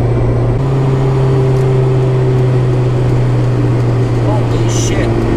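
A Honda B16-swapped wagon engine holding about 3,500 RPM at highway speed, heard from inside the cabin as a loud, steady droning hum with road and wind noise underneath.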